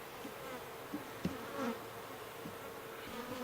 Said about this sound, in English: So we've got a nice bunch of bees up top here.